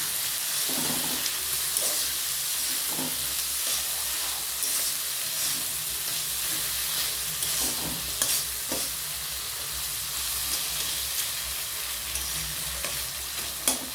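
Chopped onion greens sizzle steadily in a pan for a dish of cabbage cooked with crab, with occasional scraping stirs of a spatula over the continuous frying hiss, close and fairly loud, no voices.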